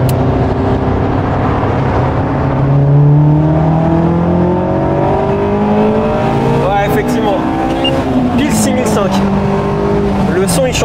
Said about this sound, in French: T'as la note d'échappement qui change